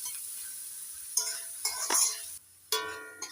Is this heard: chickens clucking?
no